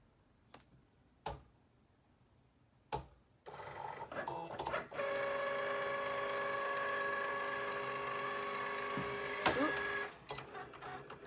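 A Cricut Explore Air 2 cutting machine cuts heat transfer vinyl, giving a steady whirring motor hum with tonal whine and small ticking movements for several seconds after a few sharp clicks as the mat loads.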